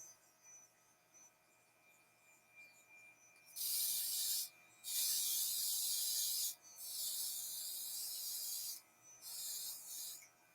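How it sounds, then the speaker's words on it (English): Luminess airbrush foundation sprays out in four strong hissing bursts of a second or two each, separated by short pauses, loud and close over a quiet background hum, with no talking. "I'm going to spray too hard, put it in one area."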